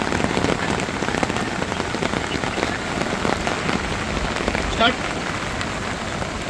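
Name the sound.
rain falling by the Jagbudi river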